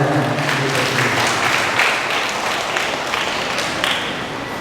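Congregation at a church Holy Communion service applauding visiting priests, with steady, loud sustained clapping from a crowd filling the room, close and continuous for several seconds without speech.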